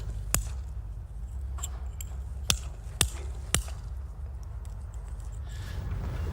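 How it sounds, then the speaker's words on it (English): Hammer blows strike wood to knock out a hole, about five sharp, separate impacts at irregular intervals over a low background rumble, with no talk. "You hammer out a hole?"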